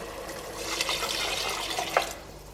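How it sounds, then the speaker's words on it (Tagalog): Water holding dissolved chicken cubes is poured into rice as it cooks, a soft steady splashing stream that ends with a final plop, heard alone with no talk. "ilalagay ko yung tubig na merong chicken cubes"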